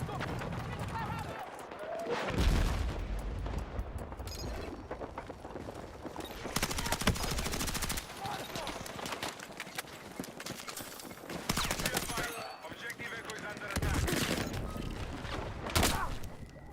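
Rapid automatic gunfire in the shooter Battlefield 6, recurring bursts through a busy battle soundscape with footsteps and movement, under a player's casual talk.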